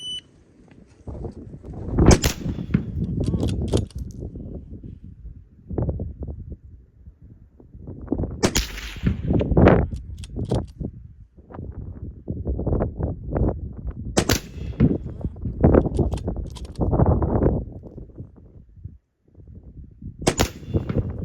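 Sharp rifle shots ring out one at a time at a shooting competition, several loud cracks spaced a few seconds apart over a steady rumble of crowd and wind noise.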